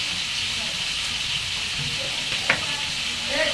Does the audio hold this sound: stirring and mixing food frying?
yes